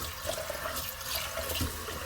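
Rice being washed in water in a kitchen, a steady wet swishing and sloshing close up, continuous and alone for about two seconds.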